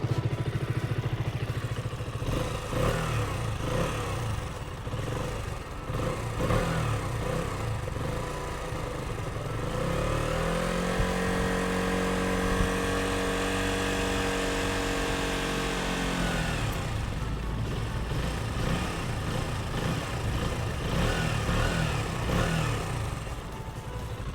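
A KTM Duke 125 motorcycle engine idles while warming up after a radiator replacement, a steady close clattering drone with a smoother rising whir in the middle stretch, no talk over it.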